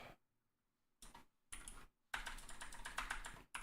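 Computer keyboard typing in short bursts of quick key clicks separated by brief pauses, growing busier and louder toward the end, heard alone with no talk.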